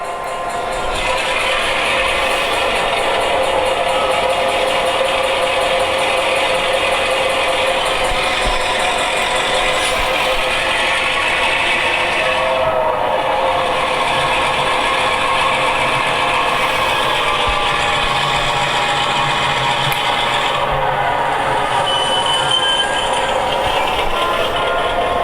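A model railroad locomotive under Protothrottle control running steadily, with a loud, continuous mechanical drone, rattle and hum that holds near-constant level for the whole stretch, carrying occasional faint shifts but no clear voices.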